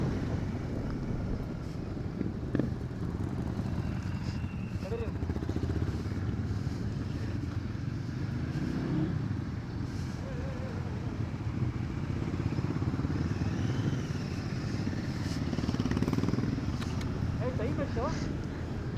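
A motorcycle rides along monsoon roads in Wayanad, its engine a steady low drone mixed with wind buffeting the microphone, with people talking over it throughout.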